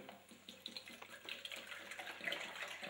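Distilled water being poured into a container, a quiet, continuous splashing trickle that grows slightly fuller as it goes, with no voices.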